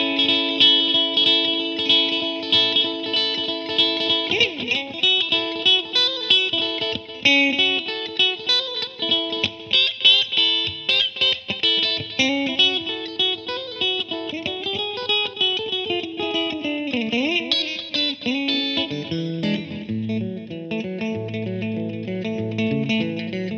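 Rockabilly electric guitar played through a Blackstar amplifier with a T-Rex Replicator tape delay, twangy picked phrases with echoing repeats and chorus-like shimmer, steady and fairly loud, ending in lower bass-string runs, with no voices.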